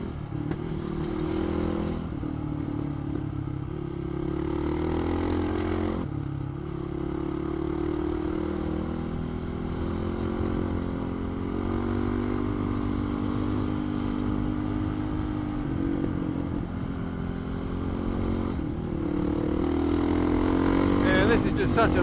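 A 450 motorcycle rides a winding road in the Paluma Range, its engine droning steadily and shifting in pitch through the corners, close and loud under continuous wind buffeting, with a rising rev near the end.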